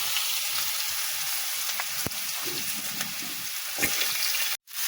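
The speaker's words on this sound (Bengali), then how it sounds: "আলু আর বিট একসঙ্গেই ভাজি করতে দিব" Cut potatoes and beetroot fry together in hot oil with cumin, a continuous close crackling sizzle broken by a few sharp pops and a brief cut-out near the end.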